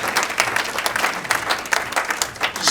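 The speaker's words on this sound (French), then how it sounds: "Acclamons pour le Seigneur." A church congregation applauds the Lord, with dense, steady clapping from many hands filling the room at an even level throughout.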